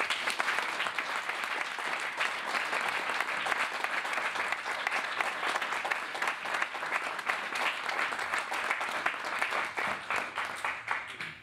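Sustained applause from a theatre audience at a stage show in Castellane, dense steady clapping from many hands throughout, loud and even without voices on top.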